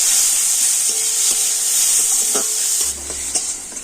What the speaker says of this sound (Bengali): তো টমেটোটা আমি একটু নাড়াচাড়া করে নিয়েছি